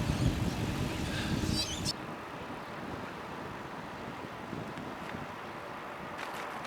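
Blustery wind roars across the microphone while a cyclist rides down a big hill, loud and steady, with a louder gust at the start.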